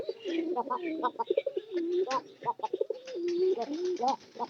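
Domestic pigeons coo repeatedly at close range in soft, rolling phrases, with overlapping calls and brief flutters in a quiet setting.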